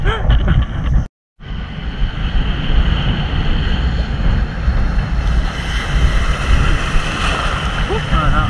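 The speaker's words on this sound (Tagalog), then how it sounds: "Alon mga master" Ocean waves surge and wash steadily with strong wind buffeting the microphone, a brief dropout near the start, and faint voices mixed in.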